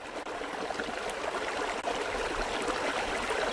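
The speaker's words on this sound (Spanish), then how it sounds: "Desde la laguna, por un cauce que no supera los 2 metros de ancho, empieza oficialmente el río" A narrow high-mountain stream, under two metres wide, flows out of an Andean lagoon in Colombia's Andean-Amazonian massif, giving a steady, close, broadband rush of water that runs alone and unbroken.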